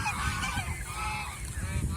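Geese on a goose farm honk loudly and continuously, several birds calling over one another up close with no talk.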